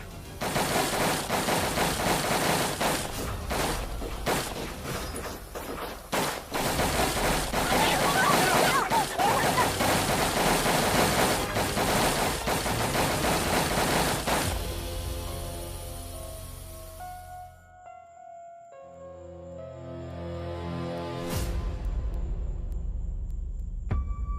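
Rapid bursts of gunfire ring out in a crime drama shootout, dense and loud over a rushing background for about fifteen seconds, then give way to quieter music-like tones, with voices heard at points.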